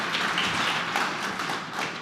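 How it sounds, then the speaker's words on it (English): Applause from an audience at Bubblecon 2024 for the Bubble founders during a live AMA, a steady dense patter of many hands clapping that stays fairly loud and even for about two seconds. "let's give another round of applause for them."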